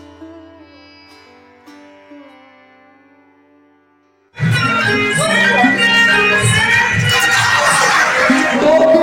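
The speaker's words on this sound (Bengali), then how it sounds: "অন্য তাহলে জোরসে করতালি দাও।" A school audience at a Teachers' Day magic show breaks into loud applause and crowd noise, a sudden dense roar that follows a quieter spoken stretch and holds steady to the end.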